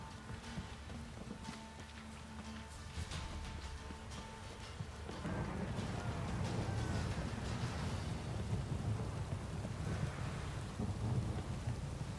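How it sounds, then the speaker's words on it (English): In The Witcher 3, a thunderstorm downpour roars, with a faint tonal hum at first, then heavy rain that swells into a dense, continuous wash with low rumbling thunder beneath, no speech. "This downpour's a bastard in it."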